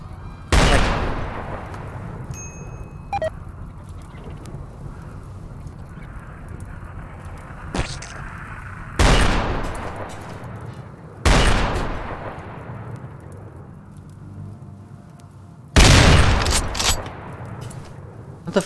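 Gunfire in the colony-building game RimWorld: a handful of loud, sharp shots spaced several seconds apart, each ringing out with a brief decaying tail over a low steady background rumble.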